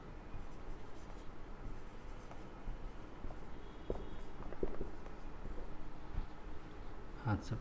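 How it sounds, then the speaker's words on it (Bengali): A teacher writes on a classroom board, giving faint intermittent scratchy and tapping strokes over a steady low room hum, with brief louder knocks near the end. "আমি বোর্ডে লিখে দিচ্ছি"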